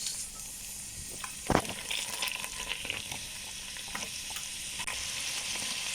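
Chopped onion and chili hit hot oil and margarine in a pot, a close, steady sizzle and crackle with a sharp burst near the start and occasional stirring scrapes, with no talking.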